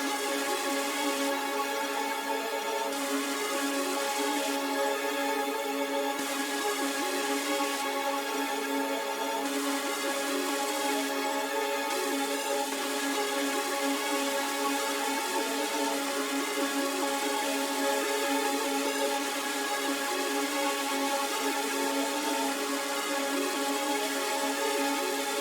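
Full melody of an FL Studio trap beat with a Serum lead synth and delay, dense bright layers looping steadily at moderate level with bursts of high shimmer, no voices.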